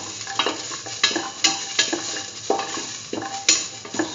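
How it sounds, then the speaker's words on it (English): Garlic stir-frying in a pan for a curried egg and mung bean stew, with steady sizzling broken by repeated scraping stirs of a utensil, close and fairly loud, no voices. "Now put in the garlic"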